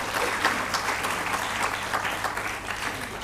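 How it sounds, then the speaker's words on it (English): An audience at a women-in-data-science conference in Bengaluru claps in steady, dense applause throughout. No voices stand out above it. "Please give a big round of applause."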